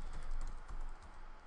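Quick bursts of keystrokes on a computer keyboard, a brief run of soft clicks heard close up with no voices.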